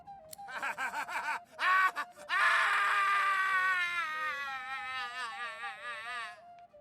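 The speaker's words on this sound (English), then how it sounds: "The crazed lone wolf spirit screams and does not stop." A crazed lone wolf spirit in the video game Divinity: Original Sin 2 lets out a loud, sustained, wavering scream that follows a few shorter choppy cries and then trails off.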